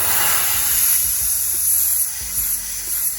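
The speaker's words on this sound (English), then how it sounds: "I'm gonna pick up my airbrush, and again, this is just the Createx Wicked Black." An airbrush sprays Createx Wicked Black paint onto a Commander Cody Black Series action figure, giving a close, continuous airy hiss over faint low rumbling.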